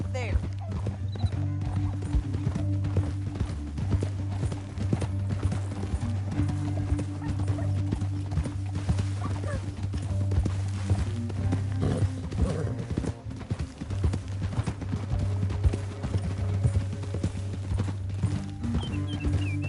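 Horse hooves galloping in Red Dead Redemption 2, a continuous pounding clip-clop of several horses with an occasional whinny, under a steady low rumble and people talking over it.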